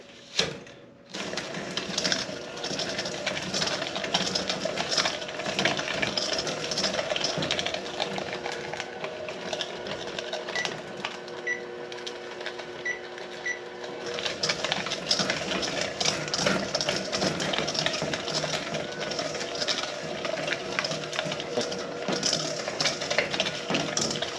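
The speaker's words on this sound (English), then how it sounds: "using an electric mixer like this one, I'm gonna mix that" An electric mixer beats room-temperature cheese and sugar at low speed, a steady whirring motor drone with rattling and clicking, starting with a thump and dipping briefly near the middle, with no talk.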